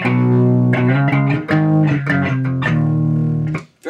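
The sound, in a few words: electric guitar through tube amp, clean tone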